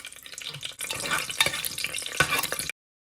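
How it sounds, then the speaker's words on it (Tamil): Mustard seeds and small dried red chillies crackle and splutter in hot oil, a close, busy sizzle with sharp pops that stops abruptly. "இப்போ இந்த கடுகு பொறிஞ்சு கொண்டு இருக்கேக்கில் காஞ்ச மிளகாய் நான் எடுத்து வச்ச காஞ்ச மிளகாய் மூண்டு சின்னது தான் அதையும் இதோட பொரிய போடுறேன்"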